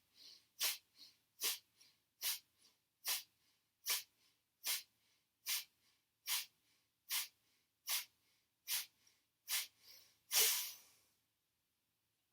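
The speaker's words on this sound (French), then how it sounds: "on va faire une respiration dynamique" Rapid rhythmic breathing in a seated twist yoga pose: about fourteen sharp, forceful nasal exhales in a steady pulse, close and alone, ending in one longer, louder breath and then quiet.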